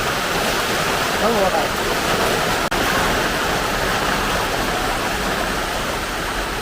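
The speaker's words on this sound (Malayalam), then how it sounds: "മഴയോ മഴ" Heavy rain pours down steadily, a dense, even hiss and roar that fills the whole clip at close range, with one brief sharp drop partway through.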